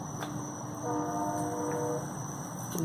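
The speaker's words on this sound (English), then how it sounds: "there's that train." A distant train passing with its horn sounding, a steady chord-like blast lasting about a second over a continuous low rumble, faint and far off with no talk.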